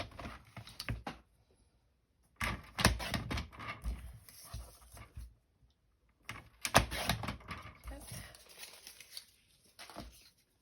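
Paper for a flip card is cut in two separate bursts of close, crisp clicking and snipping with quiet pauses between them, faint and unaccompanied by speech.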